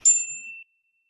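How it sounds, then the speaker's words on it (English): A single small bell rung once in a classroom calm-down breathing exercise, a bright clear ding that rings out briefly and fades, alone with no talking. "we're gonna ring our bell"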